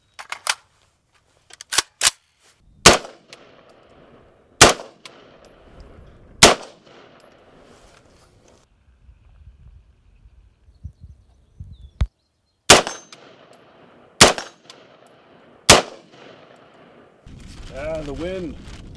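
Rifle shots ring out one at a time during test firing at an outdoor range: about ten sharp, loud reports spaced a few seconds apart, with a quieter stretch between and a voice heard briefly near the end.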